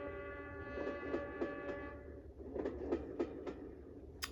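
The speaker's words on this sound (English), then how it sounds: "And last but not least is the train sound." Magicteam sound machine plays a train sound effect, a horn tone fading into rhythmic clickety-clack thumps, quiet and recorded from the small speaker.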